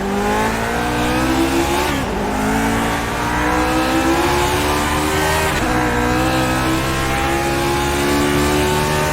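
A Lotus 49 race car in iRacing at Okayama revs hard through the gears, its engine note rising steadily, dropping sharply at two upshifts, then climbing again, loud and close throughout.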